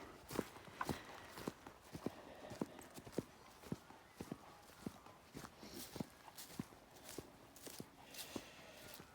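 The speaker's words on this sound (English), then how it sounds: "I'm wearing my gumboots, so it sounds like I'm stomping ahead" Heavy footsteps stomping along in rubber gumboots over frosty, icy ground on a cold morning, a steady walking rhythm of crunchy thuds close to the listener with no talking.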